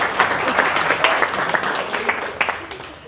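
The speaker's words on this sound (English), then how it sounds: "Just give a round of applause." An audience gives a round of applause at a talk, steady dense clapping for a few seconds at moderate distance, with some speech over it.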